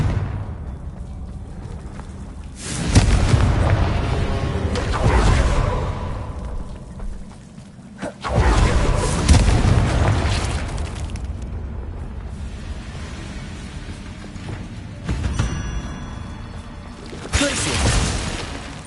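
Confringo and Bombarda spells burst in Hogwarts Legacy as a few loud, swelling blasts with whooshing tails, spaced several seconds apart, each rising and fading between quieter stretches.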